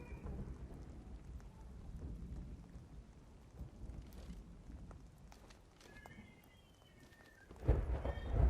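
Steady rain with low thunder rumbles during a storm in the shooter game The Cycle: Frontier, a dense constant wash that swells into a heavier, louder rumble near the end, with no talking.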